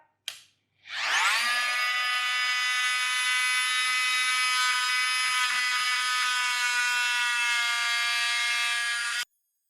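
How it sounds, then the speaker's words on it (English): Trim router working a Squier Classic Vibe 50s Telecaster body, a loud, steady high-pitched whine that spins up quickly and holds for several seconds before cutting off. "Trim router is your friend."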